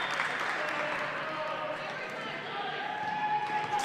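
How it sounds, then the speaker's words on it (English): Crowd noise at a girls' high school basketball game between Dartmouth and Durfee rises after a clear-cut foul, a steady wash of cheering and murmur filling the gym with sneaker squeaks, while a commentator talks over it. "And the crowd with a little extra cheer on what was a very clear-cut foul."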